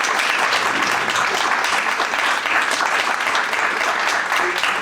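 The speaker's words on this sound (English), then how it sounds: "So a big round of applause for Mr." Loud, sustained audience applause for Passaic mayor Hector C. Lora at an anniversary proclamation event, a dense unbroken wash of many hands clapping close by for nearly five seconds.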